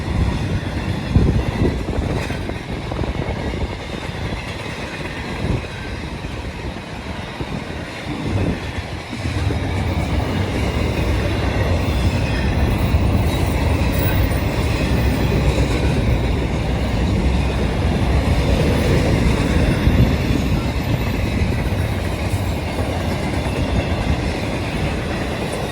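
A CSX freight train locomotive passing on the rails of the L&N line, a loud continuous rumble and roar with rolling wheel noise building and holding steady close by throughout.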